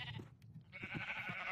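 Sheep in the survival game ShadowIsland letting out a couple of nasal, wavering bleats, fairly quiet and close, alone without talk.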